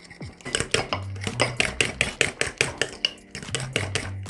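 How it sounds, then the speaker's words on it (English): Banana bread batter with vanilla being mixed in a bowl, a steady run of about twenty rhythmic spoon knocks and scrapes against the side, close and clear with no talking. "And we're going to mix this all together."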